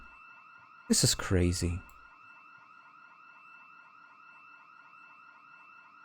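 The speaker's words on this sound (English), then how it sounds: "It's yet another alarm." A video game alarm blares as a steady, continuous electronic warning tone that repeats without a break, with a short burst of voices near the start.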